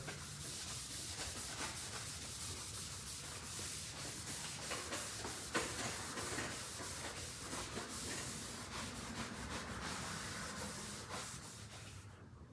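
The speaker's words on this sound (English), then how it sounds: "As long as it's gonna give you a good scuff that you need to prep the bumper with." A car bumper is scuffed with a red Scotch-Brite pad for paint prep, giving steady, close abrasive rubbing that runs throughout with quick back-and-forth scratchy strokes.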